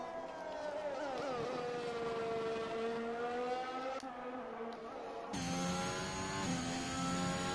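Race cars in a GP3 racing video game round at Hungary, engines whining with rising and falling pitch as they pass, a sharp jump in intensity near the end as another car roars close by; no talk.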